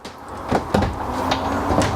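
Glass shower door in the bathroom of a 2019 Heartland North Trail 28 RKDS travel trailer, moved with a couple of sharp knocks and clacks followed by a sliding rattle, close and fairly loud, with no talking.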